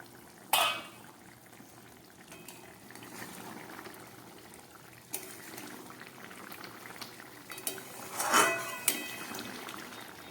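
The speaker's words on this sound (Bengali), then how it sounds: "এবার ঢাকাটা খুলে দেখাবো।" A pot of lentil-fritter curry bubbles and simmers steadily, with a sharp clank near the start and a louder scrape and rattle later as the lid comes off, the boiling carrying on quietly throughout.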